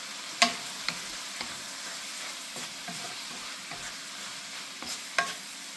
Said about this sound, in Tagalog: Tapos haluin po natin.